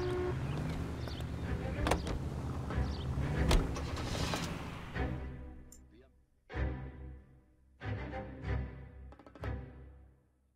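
A car driving in the video game L.A. Noire, engine hum and road noise with several sharp knocks, fading out midway before returning in shorter bursts.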